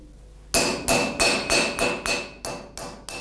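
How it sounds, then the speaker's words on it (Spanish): A hammer strikes a steel Santa Cruz de Mudela navaja blade on an anvil to straighten it, eight sharp ringing blows in a steady rhythm, loud and close with no talking. "La hoja de la navaja recibe un tratamiento especial de enderezado, a golpes de martillo en el yunque"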